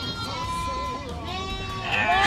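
A goat bleats in wavering cries close by, with some background noise and a voice near the end.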